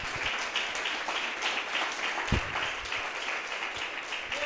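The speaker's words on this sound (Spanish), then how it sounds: "Dale un fuerte aplauso al Señor." Church congregation applauding loudly and steadily throughout, a dense continuous wash of clapping with cheers mixed in.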